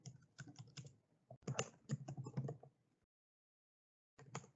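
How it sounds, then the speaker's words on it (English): Typing on a computer keyboard, quiet clusters of quick key taps in bursts with a short pause before a final flurry, close and alone. "I can start typing"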